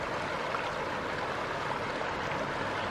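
A fish-filled creek or river rushes steadily, with a broad, even roar of flowing water heard close and alone, no voices.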